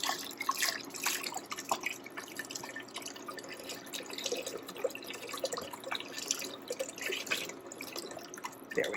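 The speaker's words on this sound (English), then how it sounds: "And now I'm going to add my stock." Liquid stock poured steadily into a pot of pea soup, a continuous splashing, dripping stream close by that runs throughout with small bursts of splatter, no talk.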